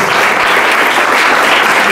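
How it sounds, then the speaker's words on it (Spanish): Loud, dense applause from an audience at a book presentation for two novels, a continuous wash of many hands clapping together at full strength, close and sustained, with no talking over it. "Un fuerte aplauso para Isaac y para Nelly, por favor."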